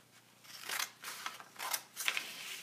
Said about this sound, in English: So you cut it like this,